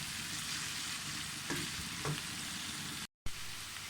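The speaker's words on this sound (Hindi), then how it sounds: "इसको फ्राई कर लें।" Finely chopped onion, garlic and ginger frying in oil in a pan, a faint, steady sizzle with a couple of soft stirring scrapes and one brief dropout near the end.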